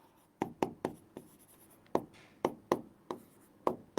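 Chalk or marker taps and strokes on a board as math terms are written during a lesson, a series of sharp close clicks in uneven rhythm with brief scratching between.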